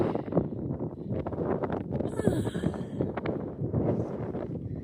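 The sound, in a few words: wind blowing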